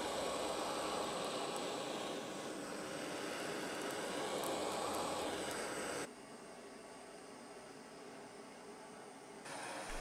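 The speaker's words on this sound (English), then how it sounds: "So I'm going to heavily burn or char the outside of the bowl and around the border." A blowtorch heavily chars the outside and rim of a hand-carved wooden bowl, giving a loud steady roaring hiss that drops to a quieter rush partway through before rising again.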